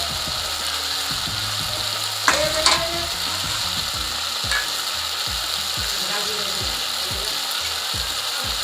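Turmeric, cumin and coriander powders stirred in a pan for a jackfruit-seed chorchori, giving a steady close sizzle with rhythmic scraping, ratcheting strokes of the spoon and a brief louder clatter, with no talking.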